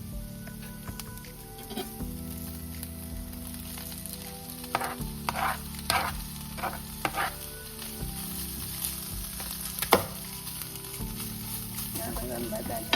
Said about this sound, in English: And then I'm going to add the turkey meat to the pan.